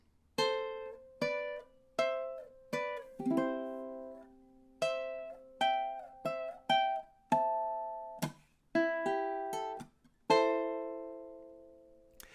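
A plucked ukulele riff of bright, separate notes and a few strummed chords, played alone at a steady pace with ringing decays.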